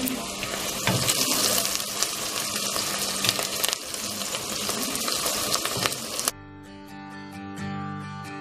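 A pot of rice cooks on a home stove as onions cook beside it, giving a steady wet sizzle and bubbling with watery stirring, close and loud for several seconds before cutting to quieter, softer kitchen sound.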